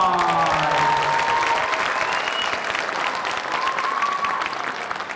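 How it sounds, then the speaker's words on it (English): Audience applause at the L'Anse Creuse Idol 2024 school singing show, a steady dense wash of clapping from a large crowd that holds throughout, with a few faint sustained musical tones sliding over it. "Let's give them all a round of applause."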